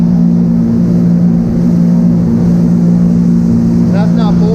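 A motorboat engine drones loud and steady at cruising speed on choppy water, with a strong constant hum and rushing water and wind noise close by.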